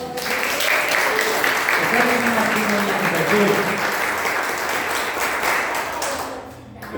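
Congregation applauding in a church service, a loud steady wash of clapping lasting several seconds while someone speaks over it, fading slightly at the end.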